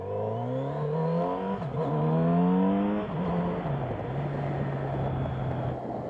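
A 2023 Kawasaki Z900 RS motorcycle accelerates hard, its engine note climbing steeply through rising revs, dipping briefly at a gear change, then pulling again at a steady loud drone close by.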